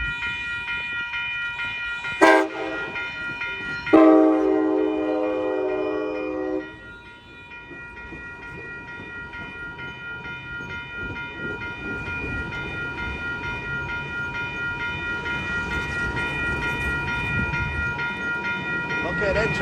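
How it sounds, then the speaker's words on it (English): An Amtrak Capital Corridor passenger train on 98th Avenue in Oakland, California sounds its horn in short and then sustained blasts, followed by a long steady rumble of the passing cars with a faint bell, while a person talks. "northbound train to Sacramento. This is it, y'all. Here she comes."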